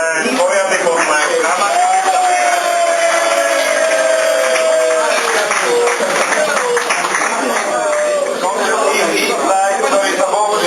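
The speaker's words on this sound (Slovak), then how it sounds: "potlesk." An indoor crowd at a tournament awards ceremony claps steadily in dense, sustained applause, while an announcer's amplified voice speaks over it for much of the time.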